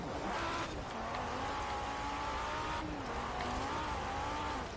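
A rally car in Forza Horizon 4 slides its back end around a tight hairpin on the handbrake, tires squealing in long wavering tones over a steady engine drone, heard twice in close succession with no voices.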